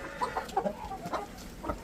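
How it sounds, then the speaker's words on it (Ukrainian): Village chickens in a coop, among them a black hen, give a string of short, close clucks and murmurs at an irregular pace, fairly soft against a quiet background. "яка гарна курка ця чорна"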